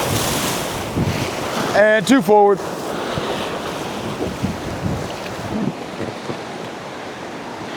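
Whitewater rapids on the Ocoee River, a rushing, roaring wash of water with heavy wind buffeting the microphone, loud and close, while a person calls out briefly over the noise.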